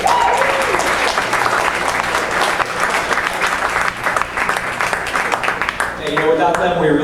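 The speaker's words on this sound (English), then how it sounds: "huge round of applause for all of our national sponsors" Steady applause from a crowd at a CodeDay opening ceremony fills the space, dense and sustained, with a voice starting to speak as the clapping fades.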